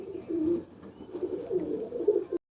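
Teddy pigeons coo in low, rolling, throaty bursts, close by and repeated over a couple of seconds before cutting to silence.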